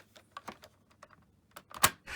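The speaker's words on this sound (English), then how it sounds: "it should just make a nice clicking noise as it clicks in" A Dyson DC33 cylinder vacuum's cyclone unit being pushed into place, giving a few quiet plastic clicks and taps followed by one sharper, louder snap near the end, close up with no talking.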